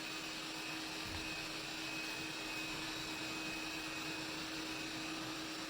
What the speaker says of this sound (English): Can you hear Arlo sucking?